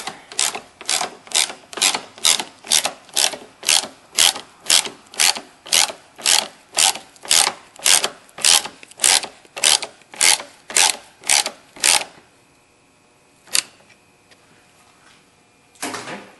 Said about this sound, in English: just tighten it up.